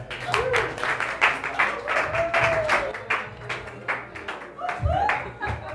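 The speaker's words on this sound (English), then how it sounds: "Please make it loud, give a nice St. Louis welcome to Michael Blanck." Audience applause at an open mic comedy night in St. Louis as a comedian is welcomed to the stage: steady, fairly loud clapping with scattered sharp claps and some crowd voices mixed in throughout.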